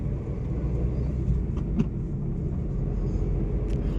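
Big vehicles pass at the Hollongi roadside checkpoint on the Arunachal Pradesh–Assam border, a steady low engine rumble with faint clicks and rattles, heard from inside a moving vehicle.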